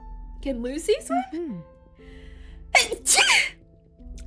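A character sneezes twice in a sharp burst near the end, in the Reverse: 1999 video game, following a stretch of a high-pitched animated voice talking.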